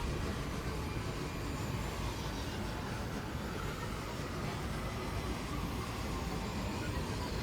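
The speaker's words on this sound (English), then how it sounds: "can't forget about these new grind rails" A grind rail ride in Fortnite gives a steady, continuous rumbling grind with an airy rushing layer. It holds at an even loudness throughout, with no voices.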